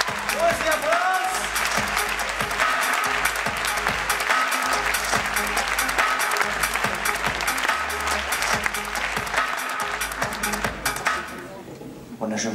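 Loud, steady applause from a theatre audience greeting a stage act, dense clapping that fills the room continuously for about eleven seconds before fading.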